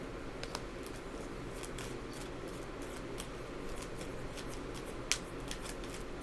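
A deck of cards is shuffled repeatedly at close range, giving quiet rapid riffles and flicks with one sharper snap near the end, and no talking.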